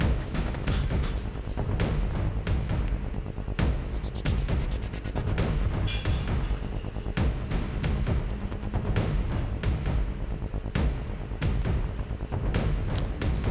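Gunfire in the mobile shooting game Cover Fire, loud rapid bursts of shots and booming impacts crackling in quick repeated volleys throughout, with occasional brief voice in the mix.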